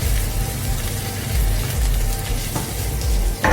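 Curry leaves and dried chillies sauté in a hot pan for a Tamil nethili fish curry, giving off a steady, close crackling sizzle that holds evenly throughout with no voices.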